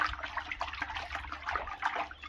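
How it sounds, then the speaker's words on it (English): Water being hand-stirred into a vortex for a complex activator preparation, a close, churning slosh and swirl with gurgling pulses, continuous and fairly soft, with no speech. "So the water starts to form the vortex really easily."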